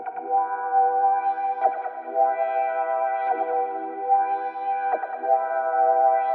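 An FL Studio beat in a trap vibe plays with a dreamy atmosphere and heavy reverb, sustained washy chords and tones with soft recurring hits, loud and steady with no talk.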